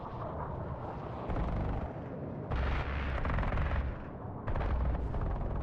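Gunfire in the War Thunder video game rolls on as continuous rapid bursts and booming cannon-like blasts, dense and rumbling in surging waves, with no talk over it.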